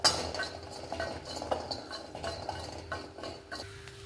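Whole, unpeeled hill garlic dry-roasting in a pan, with clinks of a spatula and light scraping and rattling of the cloves against the metal, fairly close and unhurried, no voices.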